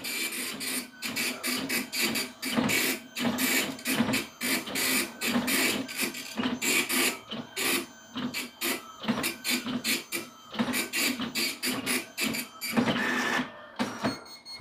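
An Epson PLQ-30 passbook printer prints out its current settings, a rapid dot-matrix chatter of dense bursts and short pauses that runs throughout, close and loud with no voices.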